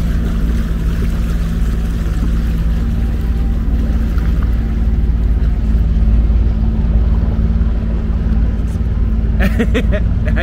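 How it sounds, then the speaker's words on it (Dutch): Steady low rumble of a boat engine departing on an Amsterdam canal, continuous and fairly loud, with some faint background voices and a brief clatter at the end. "Ook Kev, er gaat hier een boot weg"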